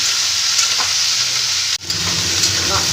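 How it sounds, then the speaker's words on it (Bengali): Thin folui fish sizzles in hot oil for shukto, a steady close frying hiss with a brief dip where it is stirred. "হালকা করে ভেজে নেব"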